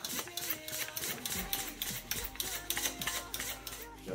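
Someone hand-pumps a cooling system pressure tester on a 1983 Toyota Tercel up to about 12 PSI. Close, rapid, rhythmic squeaks and mechanical strokes repeat throughout.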